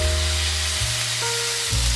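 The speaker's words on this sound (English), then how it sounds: "The pan is hot, let's cook our burger" A burger patty laid into a hot stone pan with a little olive oil sizzles loudly and evenly up close, with a steady bright crackle and no talk.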